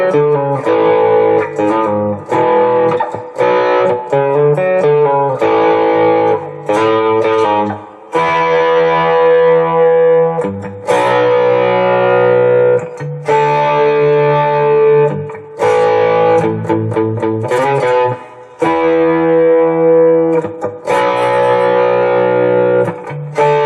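A four-string cigar box guitar plays a riff through a distorted, reverberant effects tone, with loud, close, chunky chord stabs and brief gaps between phrases.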